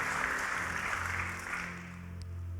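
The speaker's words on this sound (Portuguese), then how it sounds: "Aplaudir a Jesus Cristo." Brief, fairly faint applause from a church congregation during a sermon, steady clapping with a low sustained hum beneath it for a couple of seconds.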